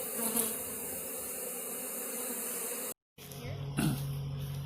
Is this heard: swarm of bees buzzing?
yes